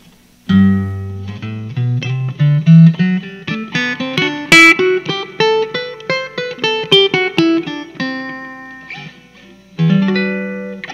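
A 1964 Howard Roberts Standard archtop electric guitar plays a run of clean single notes climbing and falling in a melodic line, then a final ringing chord, close and clear with no talking.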